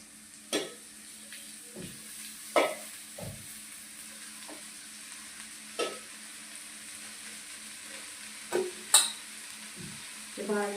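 Spinach frying in oil, a soft steady sizzle broken by a series of distinct scraping stirs and clinks of a utensil against the pan at irregular intervals.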